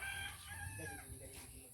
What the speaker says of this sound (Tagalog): Kailangan bakuran ito guys kasi ang daming manok ni Ruel.